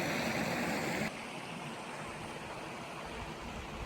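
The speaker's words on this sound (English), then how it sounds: "that is the place where Lost Creek literally flows right out of the mountain" Lost Creek gushing out of the mountainside in Colorado, a steady broadband rush of flowing water that is louder for the first second, then continues slightly softer and unbroken.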